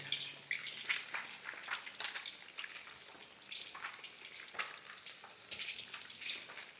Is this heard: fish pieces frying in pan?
yes